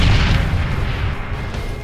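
A bomb blows up the objective in a Search and Destroy match of the video game Modern Warfare 3, making a loud, heavy, close boom that rolls on and slowly fades, with no talking.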